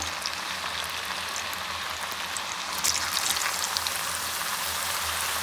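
Potato strips deep-frying in hot oil for French fries, a steady dense crackling sizzle with bubbling that grows slightly busier partway through, close and continuous with no talking.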